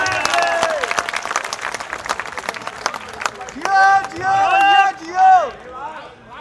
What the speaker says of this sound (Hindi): एक बार जोरदार तालियां बजा करके आदेश।